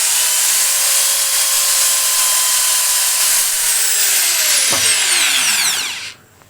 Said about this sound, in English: this is a rubber for cleaning out sandpaper.